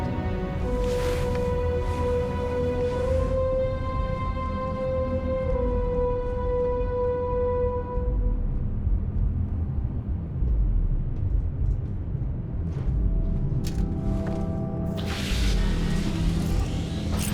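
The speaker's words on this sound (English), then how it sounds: "Liftoff looks good. All systems go." Spaceship liftoff in the video game Starfield: a loud, steady engine roar with rising siren-like tones for the first eight seconds, giving way to broad rumbling thrust and bursts of noise near the end.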